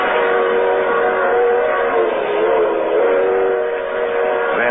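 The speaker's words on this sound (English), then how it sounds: "I want you to be my guest on a little train ride." Steady rumble and clatter of a train running at speed through the night in an old radio drama sound effect, with a whistle rising above the continuous loud rolling of wheels on track.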